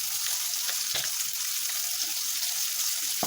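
Ground green chili, sesame and garlic paste frying in hot oil, a steady close sizzle with a few brief stirring scrapes and no talking.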